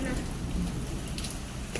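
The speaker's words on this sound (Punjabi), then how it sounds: "ਉਹ ਥੋੜਾ ਸੀਗਾ ਮੀਂਹ ਆ ਗਿਆ ਵੀ ਸਾਡੇ ਹੁਣ ਅੱਜ ਬੇਮੌਸਮਾ ਮੀਂਹ ਹੈ" Steady unseasonal rain pours down close by in Punjab, a dense continuous patter with a few brief louder splashes.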